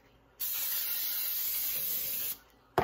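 Baker's Joy non-stick baking spray hisses from an aerosol can into a cake pan in one sustained, even burst of about two seconds, close and loud, starting and stopping abruptly with no talk.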